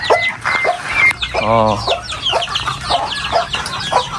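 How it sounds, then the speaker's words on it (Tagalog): Chickens cluck and chatter close by on a farm with chicks and turkeys, a rooster-like call rising briefly amid a busy, noisy farmyard. "yung mga sisiw, dumadami na dito, manok, pabo"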